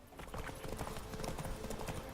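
Horse hooves clip-clop at a steady galloping rhythm from the mount in The Witcher 3, a continuous run of muffled thuds at moderate loudness over a dense game soundscape.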